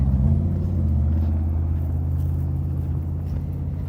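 A truck passes close by on a road with a loud, low engine rumble that fades slowly as it moves away. The scene is outdoors during a dog walk.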